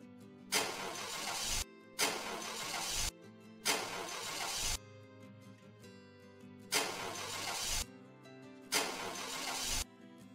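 A toy car that is out of gas fails to start: five separate cranking bursts, each about a second long, with short pauses between them.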